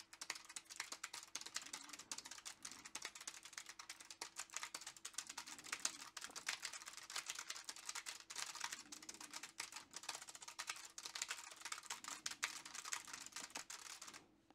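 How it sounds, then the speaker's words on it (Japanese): Continuous rapid typing on a computer keyboard, captured through a gaming headset microphone, with quiet but crisp key clicks clattering in an uneven rhythm without talk. "今からキーボードを実際に打ってみて、マイクにどれくらいキーボードのタッチ音が乗るのかを試していきたいと思います"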